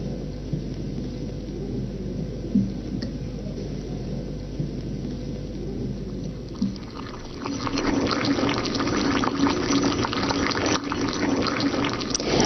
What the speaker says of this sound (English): As the water emerges, it turns from red to purple due to the alkaline nature of the ammonia.